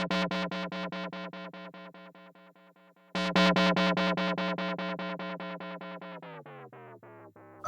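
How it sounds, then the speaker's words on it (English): A bright, buzzy tone from an Erica Synths Syntrx II synthesizer repeats in rapid rhythmic delay echoes that fade away, then a second louder note starts and its repeats trail off, bending downward at the end. "It's a nice delay, that."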